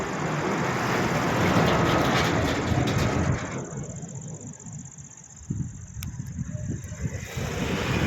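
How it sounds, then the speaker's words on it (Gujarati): A train rumbles past loudly for a few seconds near the Shirdi–Malegaon road in hilly Maharashtra at dusk, then fades into quieter outdoor ambience with faint rattles and a distant whistle-like tone. "જો ટ્રેન જાય."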